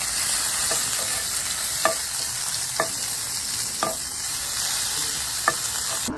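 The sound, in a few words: frying and stirring curry leaves in a pan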